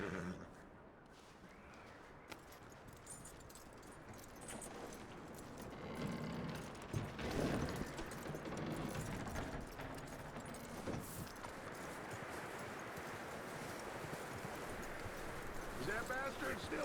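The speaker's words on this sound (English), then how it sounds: "That looks like a decent horse." A horse in the video game Red Dead Redemption 2, with close hoof clip-clops and movement sounds that swell midway, while people talk over much of it.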